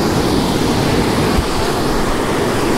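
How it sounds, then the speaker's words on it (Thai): The Pha Kluai Mai waterfall stream in Khao Yai rushes steadily, a loud, broad roar of flowing water heard close and alone without a break. "อันนี้คือน้ำตกที่จุดเรามาเดินเมื่อกี้นะครับรวมระยะทางก็กิโลกว่าแล้วน้ำตกผากล้วยไม้ครับ"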